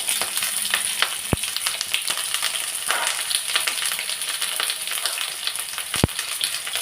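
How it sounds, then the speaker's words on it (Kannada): Green chillies frying in hot oil in a pan for a hotel-style tomato chutney give a steady crackling sizzle with two sharp pops, close by and with no talking. "ಈಗ ಮೆಣಸಿನ್ಕಾಯಿ ತಗೊತಾ ಇದ್ದೀನಿ ಫ್ರೈ ಮಾಡೋಕ್ಕೆ"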